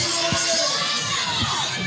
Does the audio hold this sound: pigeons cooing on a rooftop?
no